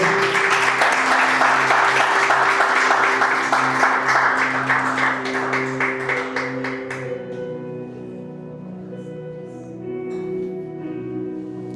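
A church congregation bursts into loud, dense applause during a Spanish-language sermon, the clapping fading out after several seconds as music or a sustained tone carries on beneath.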